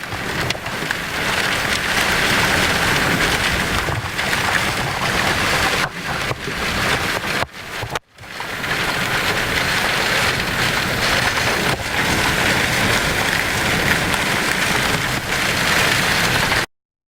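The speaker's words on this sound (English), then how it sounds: "the hail, most likely." Hail pounds down during a storm chase near Bowdle, South Dakota, in May 2010: a loud, dense, continuous hammering roar with one brief dip midway and a sudden stop at the end.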